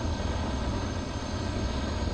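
The propeller engine of a video game plane roars in a dense, unbroken drone with a low, throbbing rumble beneath it, holding steady and loud across the whole clip.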